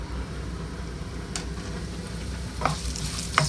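Onions fry in hot oil in a wok for Sri Lankan chicken kottu, a continuous close sizzle with a couple of brief clinks and stirring scrapes late on.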